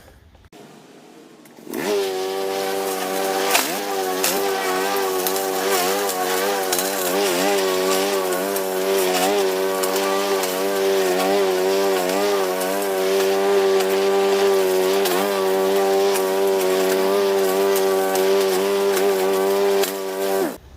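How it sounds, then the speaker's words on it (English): A double blade mulcher shreds pruned orchard branches, its motor starting abruptly and then running loud and close with a steady droning tone that wavers as wood is fed through. "Where that double blade mulching does a beautiful job"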